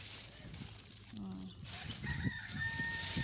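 A rooster crows once, fairly faint and distant, amid soft outdoor background noise with occasional clucking.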